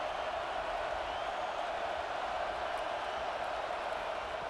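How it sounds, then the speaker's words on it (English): Roaring stadium crowd at a Miami Hurricanes versus Florida State Seminoles college football game, a steady, dense wall of noise that holds at an even level throughout. "here comes the noise. This crowd is trying to inspire this defense to make a big red zone stop"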